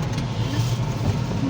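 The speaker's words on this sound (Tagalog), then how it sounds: "Sakay na lahat sa isang sasakyan." A car engine revs up as the vehicle pulls away, a steady close mid-pitched motor hum filling the short moment with no talk over it.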